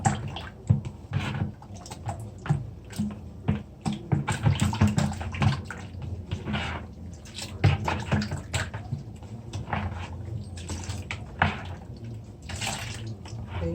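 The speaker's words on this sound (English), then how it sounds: "It's time to add the coconut milk, the coconut cream. It's a powder. I just mix it." Coconut milk powder being stirred into water in a kitchen pot for Jamaican oxtail with stewed peas, giving close, steady liquid sloshing and splashing with scattered clinks, no talking.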